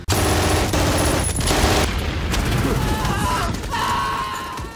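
Heavy machine-gun fire and explosions in a war-film battle scene: dense, rapid bursts of gunfire with booming blasts, loud and continuous throughout, ending in a sharp crack.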